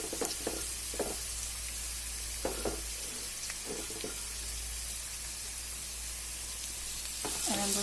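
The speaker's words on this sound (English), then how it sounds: "now I'm going to add the onions. It's 2 medium onions." Two medium onions hit a pan where garlic has already browned, giving a soft, steady sizzle with scattered taps and scrapes of handling in the first half, then a louder burst near the end.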